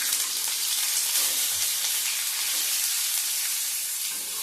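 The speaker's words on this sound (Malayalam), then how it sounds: "നമ്മുടെ മുട്ട അതിലേക്ക് ചേർത്ത് കൊടുക്കാം കേട്ടോ." Eggs sizzle in hot oil with turmeric for egg roast, a steady hissing fry heard up close with faint stirring and no talk.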